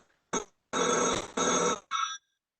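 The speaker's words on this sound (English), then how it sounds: "that sounds like an old rotary phone" An old rotary telephone rings in bursts: a short first jangle, then two long bell trills and a shorter fourth, loud and close with brief gaps and no voices over it.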